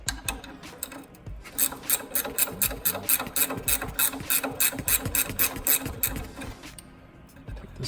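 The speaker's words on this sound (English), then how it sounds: "Switch to a gear wrench." A gear wrench ratchets quickly in a steady run of close, sharp clicks as a rusted bolt is loosened on a vehicle's suspension, pausing briefly at the start and near the end.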